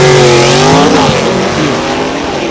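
Drag racing cars, a 1966 Chevrolet Nova and a Pontiac, launch side by side down the strip at a fall classic event, engines roaring loud and close with rising revving harmonics throughout.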